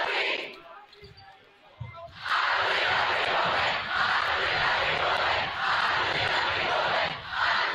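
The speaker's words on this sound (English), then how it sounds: "Famous cheer from the student section, right on cue." A high-school boys basketball student section erupts into a loud, sustained crowd cheer after a quieter opening moment, with rhythmic swells of shouting and a commentator talking beneath it.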